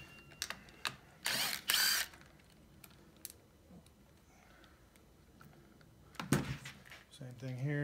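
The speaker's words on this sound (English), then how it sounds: "Then you got to pull this off, half inch ratchet square drive, get that loose." Half-inch square-drive ratchet loosening a part during a teardown of a Honda/Acura B-series five-speed manual transmission, giving a few short bursts of clicking and clacking with quiet gaps between, plus a brief scrape near the end.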